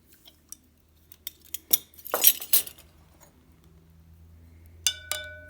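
Mixture stirred in a glass container with a metal utensil, a few light clinks and taps followed by a quick burst of scraping and clattering, then quieter taps over a low hum.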